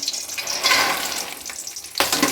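Fox nuts (makhana) roast in two spoons of hot ghee in a pan, giving a steady crackling, rustling hiss with a louder stir-like burst near the end. No one speaks.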